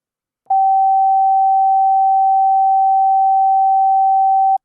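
A steady pure sine tone near G4, tuned 25 cents flat, holds at constant pitch and loudness for about four seconds, starting and stopping abruptly with silence around it.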